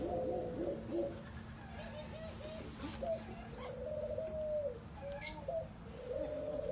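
Several doves kept indoors as pets coo in repeated soft, low calls, joined by occasional higher chirps and tweets from other birds, steady and fairly close over a constant low background hum.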